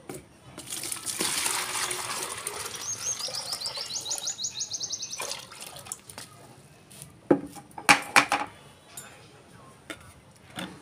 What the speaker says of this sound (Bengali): তো তার জন্য আমি আগে এখানে পানি নেব।